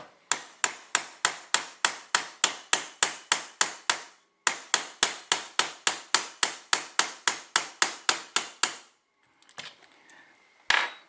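A hammer taps a punch into a roll pin on an AR-15, a sharp, steady series of about twenty-five metallic taps, pausing once, then a few scattered clinks at the end.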